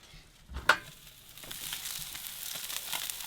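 Fish fillets of crab-stuffed flounder flipped in a hot pan, a brief clattering thump as they turn, followed by a steady, fairly quiet hiss of frying oil.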